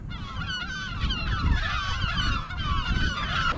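Seagulls calling on the coast of Palliser Bay, a dense flock of loud overlapping squawks and cries filling the whole stretch without pause, with no talk.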